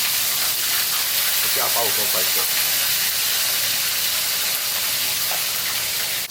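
Fish frying in oil heated to smoking point gives a loud, steady broadband sizzle and hiss that holds for several seconds, with a few faint crackles mixed in.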